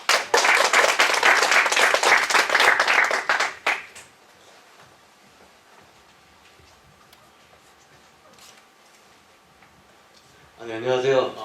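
About four seconds of lively audience clapping welcome a product manager at a Tstore open house, then the room falls quiet before a voice begins speaking near the end.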